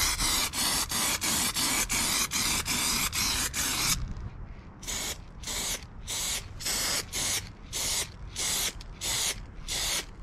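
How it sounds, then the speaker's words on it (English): Duramax black quick-drying spray paint hisses from an aerosol can onto tyres in quick, rhythmic bursts. A continuous run of short sprays is followed by a brief pause, then another evenly spaced series. "Gonna use the Duramax in black. It's a quick drying one. Give it a couple of coats of this."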